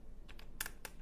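A handful of quick plastic keystrokes on a computer keyboard, faint and close, with uneven gaps and one sharper double tap in the middle.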